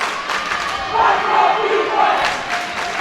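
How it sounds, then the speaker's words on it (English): Crowd in the stands roaring and cheering at a girls' high school basketball game, a loud sustained wash of shouting voices that swells in the middle. "The crowd is going nuts."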